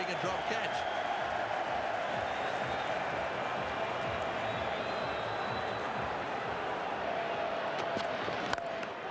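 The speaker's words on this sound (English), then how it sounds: "They're on their feet cheering a drop catch." A cricket crowd at a one-off Australia versus England T20 international roars and cheers steadily after a dropped catch, a dense, sustained wall of distant stadium noise with a commentator's voice running over it.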